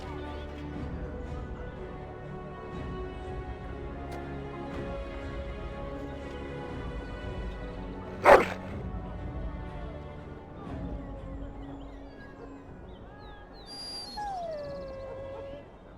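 A dog whimpers and gives a short bark in the video game Dragon Age: Origins, with one sharp burst near the middle. The dog sounds sit over steady background game music and ambience.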